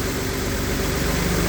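Jaguar AJ30 VVT engine idling rough and rattly, a loud, close, continuous mechanical drone with a steady low pulsing throb.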